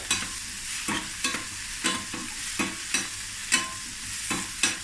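Cold idlis tossed with homemade sambar podi in a pan give a steady frying hiss, broken by regular scraping stirring strokes about every second, close and clear with no talking.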